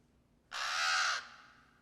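A crow gives one long, harsh caw in a scene from the 1994 film The Shawshank Redemption, loud and close against a quiet background.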